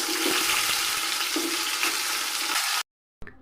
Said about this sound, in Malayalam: സവോളയും തക്കാളി നമ്മൾ ചേർത്ത് കൊടുത്തിട്ടുണ്ട്. നല്ലപോലെ ഒന്ന് വഴറ്റിയെടുക്കാം.